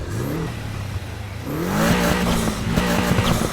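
Upgraded high-performance car engine in Need for Speed Heat starting and revving, a low idle rising into a loud, rough roar with sharp throttle blips and brief tire squeal, alone and close.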